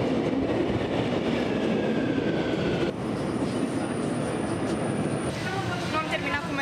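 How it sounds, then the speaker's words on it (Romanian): A Bucharest metro train rumbles in continuously and loudly from close by on the underground platform, with squealing wheel tones, and a voice is heard faintly partway through. "Metroul vine repede"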